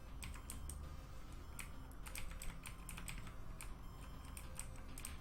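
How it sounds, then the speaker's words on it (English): Keys are struck on a computer keyboard, faint sharp clicks tapping in uneven bursts over a quiet background hiss. "the only way to fix it was to hit the keyboard as hard as I could"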